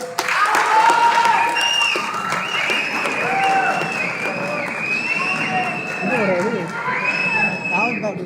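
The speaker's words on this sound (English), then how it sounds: "Put your claps." An audience at a 2022 corporate awards ceremony claps and cheers loudly and steadily throughout, with whoops and shouts rising above the applause and voices mixed in.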